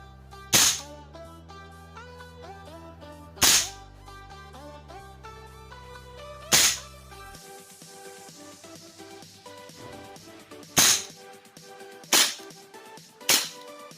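Kimber R28 rifle shots, six loud sharp cracks fired one at a time with uneven gaps of one to three seconds, each standing out clearly over music.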